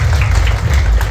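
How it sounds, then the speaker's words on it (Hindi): Audience applause greeting a guest at a college event, a steady, dense wash of clapping filling the whole moment with a heavy low rumble and no voices. "आप सभी ताली बजाकर इनका स्वागत करें"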